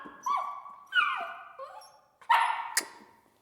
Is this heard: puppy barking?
yes